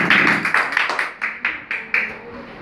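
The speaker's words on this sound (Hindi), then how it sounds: "रितिका का तालियों से एक बार फिर से स्वागत करिए" An audience claps to welcome a young contestant to the hot seat at a school quiz-show event. The claps come in quick, punchy bursts that fall into a loose rhythm, then thin out into separate strikes as the clapping winds down.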